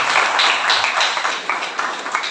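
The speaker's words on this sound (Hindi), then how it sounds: "जोरदार तालियां बजाओ उसके लिए।" Applause for Baby, a woman standing at the back of a gathering, a broad steady wash of many hands clapping at close to moderate distance, fairly even throughout with no talk over it.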